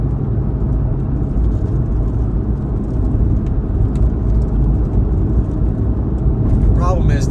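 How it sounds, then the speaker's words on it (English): A road-surface machine scrubs the pavement with a wire brush, a loud, continuous broadband rasp and motor drone that stays steady throughout, with a brief higher whine near the end. "So he's wire brushing the road."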